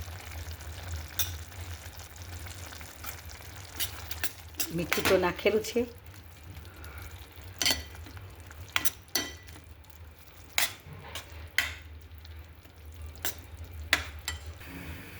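Dried fenugreek curry with chilli, turmeric and coriander-cumin powder sizzles in a pan while a spoon stirs it, giving sharp intermittent scrapes and clinks over a low frying hiss, with a brief spoken comment early on.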